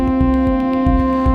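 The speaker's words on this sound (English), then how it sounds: "the solo lead sound will be the FM operator" An FM synthesizer operator holds a sustained lead drone, sent through a bandpass filter and delay, with a bright, buzzy harmonic tone and a gently pulsing low rhythm underneath.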